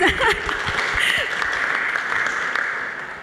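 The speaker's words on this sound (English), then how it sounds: "Yes, you can applaud." Audience applause at a talk on building art collections: steady, dense clapping from a gathered crowd, fairly near, holding for a few seconds with no talk.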